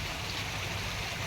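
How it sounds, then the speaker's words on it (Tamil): A farm water pump set runs steadily in a garden plot, giving a continuous broadband rushing hum like flowing water, close and unbroken for the whole moment with no voices. "பாருங்க, பம்பு செட்டு ஓடிட்டுருக்குது."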